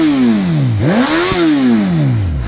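A Suzuki GSX-S 950 motorcycle engine revs loudly and close up, its pitch falling, then climbing sharply and dropping back again across a few seconds, with no talk.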